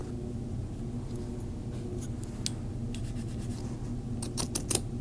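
Scissors trim the fabric seam allowance of a sewn hat, giving faint, soft snips and scratchy cuts, with a few sharper clicks near the end over a steady low background hum.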